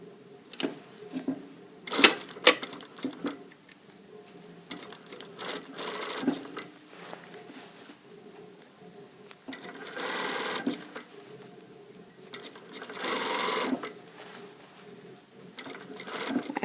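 A sewing machine stitches a sleeve into a blazer along the underarm seam, running in short uneven bursts with pauses between them, close and moderately loud, with faint talk now and then.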